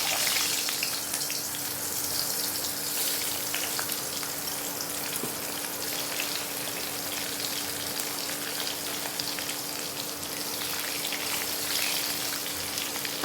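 Potato pieces fry in hot oil in a wok, giving a steady, dense crackling sizzle that holds evenly throughout without pause.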